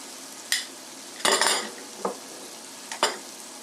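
A spoon scrapes and clatters against a pan as food gets stirred, in several short separate strokes with quiet pauses between them in an otherwise calm kitchen.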